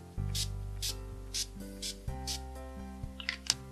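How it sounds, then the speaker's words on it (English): NYX matte setting spray is pumped toward the face, with several short, close hissing bursts in a loose rhythm over a quiet background of low musical tones. "For setting spray I'm going to use the matte setting spray by NYX."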